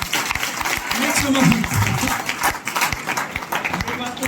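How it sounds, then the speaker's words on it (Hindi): An audience at a blood donation camp event claps, a rattling spread of applause running under a man's continuous speech through a public address system. "भाई तालियां बजाओ"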